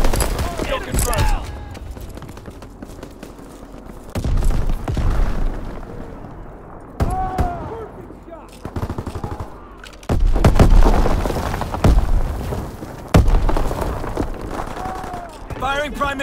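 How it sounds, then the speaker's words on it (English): Naval primary battery guns firing in a WW2 video game, with heavy booming salvos and rumbling blasts recurring every few seconds, loud and close, mixed with game effects and what sounds like a voice. "Firing primary battery."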